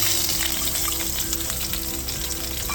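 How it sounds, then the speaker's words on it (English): Sliced onions fry in a pan with cinnamon sticks over low heat, giving a close, steady crackling sizzle that continues without a break. "And now you can add your sliced onions."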